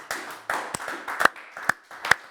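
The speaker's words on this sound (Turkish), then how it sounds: "Üzgün alkış geliyor sevgili alkış severler." A few slow, sparse hand claps, mockingly sad applause, about half a dozen distinct claps spaced unevenly and close to the listener, with faint sound between them.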